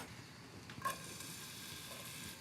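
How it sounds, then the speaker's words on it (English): Spring onions cooking slowly in a pan of olive oil and butter give a faint, steady sizzle with a brief clatter near the start, heard alone without talk. "in our pan, a tablespoon of olive oil and a tablespoon of butter. And you can just start very slowly cooking the spring onions"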